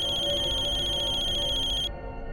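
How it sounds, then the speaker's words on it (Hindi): A phone ringtone plays steadily and loudly, then cuts off abruptly near the end, leaving low background hum. "वीरेन, तुम्हारा फोन।"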